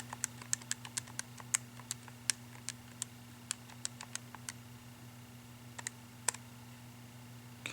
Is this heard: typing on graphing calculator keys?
yes